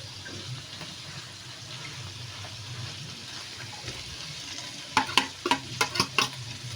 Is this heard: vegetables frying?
yes